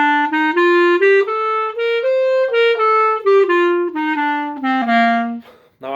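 A clarinet plays a long-short dotted rhythm with each note separately tongued, the phrase moving stepwise up and back down in a clear, close, steady solo line.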